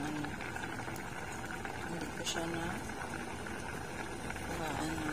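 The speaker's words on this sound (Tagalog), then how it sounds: "it's boiling" Rice porridge (lugaw) bubbles at a steady boil in a pot, a dense continuous bubbling and hiss heard close up, with a voice talking faintly in the background.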